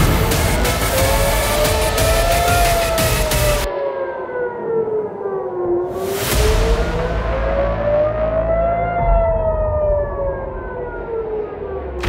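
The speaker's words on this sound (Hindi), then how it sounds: "कुछ ही देर में पूरे इजराइल में सायरन बज उठे" Air raid sirens wail loudly across Israel during incoming missile fire, their tone rising and falling in long slow sweeps. A brief noisy burst cuts through midway before the steady wail continues.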